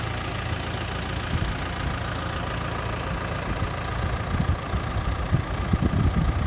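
A farm tractor's diesel engine idles steadily and close by in cold weather, a continuous low rumble with a slight knocking roughness that grows a little bumpier toward the end.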